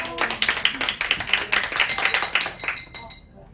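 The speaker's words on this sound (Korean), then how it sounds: "박수 치기" Several people clap together in a warm indoor setting during a wine tasting about grape varieties, a brisk, steady run of claps that fades out near the end, with faint voices underneath.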